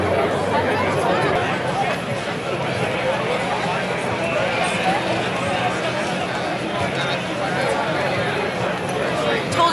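A dense crowd of roughly 20,000 people leaves the Boston Calling music festival, a steady outdoor babble of many overlapping voices and shuffling footsteps that holds constant and close throughout.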